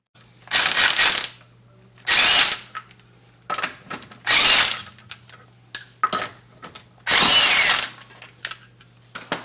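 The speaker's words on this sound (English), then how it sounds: "what you're gonna need is a 19mm socket to remove the tire" An impact tool with a 19mm socket works the wheel of a 2004 Chevy Impala in five loud, sharp bursts of whirring and rattling, separated by brief pauses with faint clinks and a low hum.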